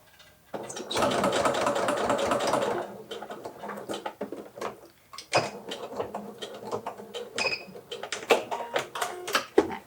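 A sewing machine stitches a dress, starting with a steady, loud run of rapid needle chatter for about two seconds, then continuing in shorter bursts with clicks and pauses as the fabric is pivoted and repositioned.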